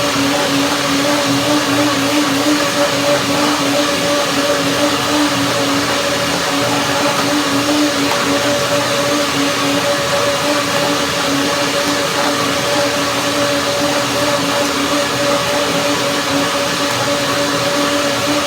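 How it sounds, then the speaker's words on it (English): A blender whirs steadily as it purees a hazelnut, spinach and banana smoothie, a dense, continuous motor drone with a grinding edge that holds at the same level throughout, with no voices. "So now blender dance."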